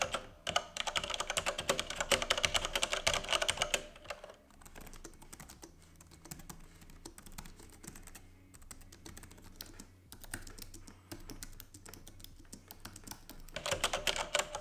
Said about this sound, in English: So how is the general typing experience with the editor's keyboard?